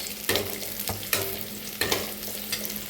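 Onions and dried red chillies fry in a pan while being stirred for a Tamil siru kilangu kootu, a steady soft sizzle broken by periodic scraping stirs, close and fairly quiet with no talk.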